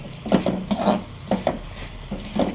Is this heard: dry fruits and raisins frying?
yes